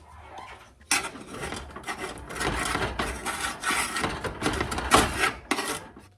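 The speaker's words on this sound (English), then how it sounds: "I'm going to take a small spatula, since this is a small batch, and just loosen them up." A small spatula scrapes under gluten free chocolate chip cookies to loosen them from a warm baking pan, giving close, continuous metallic rasping and scraping strokes of varying loudness.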